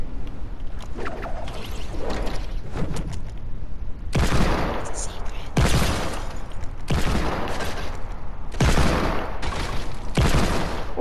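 Loud bursts of heavy hand cannon gunfire in Fortnite, a series of booming shots separated by brief gaps, with game effects underneath.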